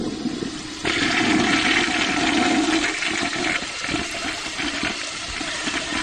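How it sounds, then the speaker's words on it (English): Toilet flushing: a sudden loud rush of water that churns strongly for a couple of seconds, then settles into a steadier refilling hiss, close and with no voices. "By flushing it right down the damn toilet."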